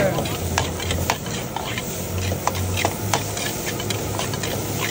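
Garlic, ginger and chili stir-fried in lard in a pan that is swirled and scraped, giving a loud, continuous sizzle with frequent sharp metallic stirring clicks throughout.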